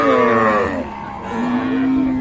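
Cattle low loudly and close by at a busy livestock market where cows and calves are sold, with one long drawn-out moo that dips and then swells again, as market noise murmurs underneath.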